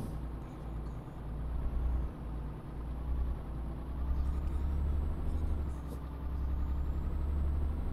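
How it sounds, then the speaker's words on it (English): In Euro Truck Simulator 2, a lorry comes up behind the player's truck on the road from Paris to Dover. A steady low engine rumble with road noise runs throughout, fairly loud and continuous, with brief faint higher hisses. "got a lorry coming up behind me as well."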